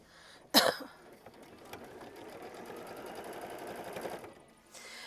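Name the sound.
sewing machine stitching fabric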